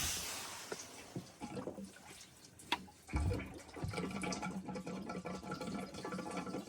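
Liquid gurgles and splashes in a barn during concrete work on a pig stall, with irregular sloshing bursts, a few sharp knocks and a thick churning wash that builds and continues to the end.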